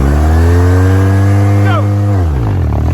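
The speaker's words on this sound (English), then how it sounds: "Rev her up a little bit." A manual-transmission car engine revs steadily and loudly close by, then drops in pitch as the revs fall near the end.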